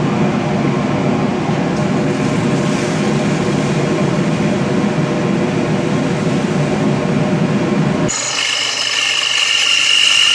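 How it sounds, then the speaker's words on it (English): A drill spins a wire brush against the steel of a punch dagger after heat treatment, a loud continuous grinding rasp, then the pitch shifts sharply near the end as the contact changes. "take a drill with a wire brush and we're just going to go ahead and clean this thing up"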